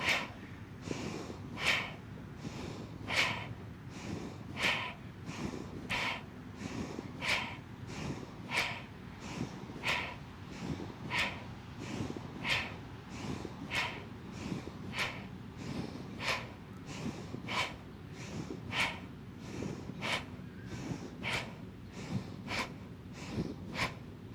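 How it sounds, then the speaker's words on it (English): Slow, rhythmic breaths drawn in and pushed out through the nose during a yoga flow, a sharp airy burst repeating roughly every second or so, close and soft, with quiet breathing between and no speech. "So remember, it's in and out through the nose."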